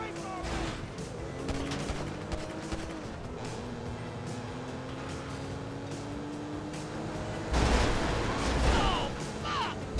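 Gunfire rattles through a Grand Theft Auto V mission on a boat, with repeated shots over engine and water noise that swell louder near the end.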